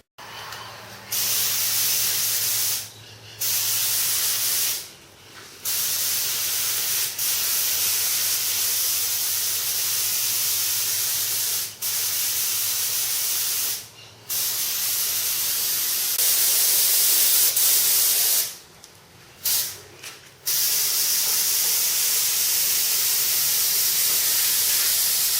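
Close, loud hiss of a spray gun putting paint into fiberglass RC plane fuselage molds, in long sustained bursts separated by short silent gaps.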